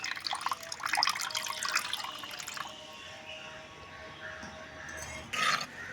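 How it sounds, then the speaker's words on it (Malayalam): Tamarind water poured into a pan of fish curry with chilli and tomato, a soft splashing trickle that fades into faint drips, with a brief louder splash near the end. "പുളിവെള്ളം ഒഴിച്ചിട്ട് ഒന്ന് ഇളക്കി കൊടുക്കണം."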